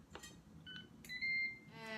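A Ninja Foodi multicooker sounds a few short electronic beeps after start is pressed, a steady tone followed by a faint trailing chime, over low kitchen background hum.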